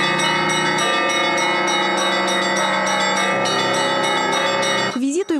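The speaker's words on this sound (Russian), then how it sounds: "Кронштадт услышал звук звон колоколов." Church bells at Kronstadt Naval Cathedral ring loudly and continuously in an overlapping peal with a steady rhythmic pattern of strikes; the ringing cuts off abruptly near the end.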